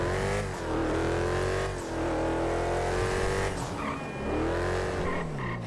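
A car accelerates hard away at midnight, its engine revving up and down in rising sweeps with gear changes, loud and close with no voices.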